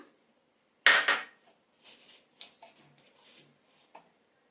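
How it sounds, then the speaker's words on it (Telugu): Mustard seeds dropped into hot oil left from frying okra, a sharp loud burst of spluttering at first, then scattered small pops and crackles fading over a few seconds, no voices. "ఇదే ఆయిల్లో"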